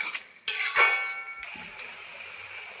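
Bottle gourd is fried in a pan, with a metal spoon clanking and scraping against the cookware over a faint hiss. The clatter comes in a few separate bursts, close up, and no one speaks.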